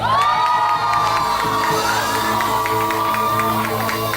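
An indoor crowd at a worship gathering shouts and cheers joyfully, a loud sustained roar of voices with whoops, continuous throughout.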